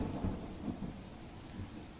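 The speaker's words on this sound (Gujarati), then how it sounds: "ભારે વરસાદ છે।" Heavy monsoon rain in Surendranagar, Gujarat, pours in a steady wash while low thunder rumbles in soft rolling swells beneath it.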